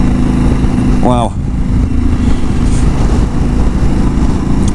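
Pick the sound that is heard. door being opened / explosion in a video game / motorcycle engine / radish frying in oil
motorcycle engine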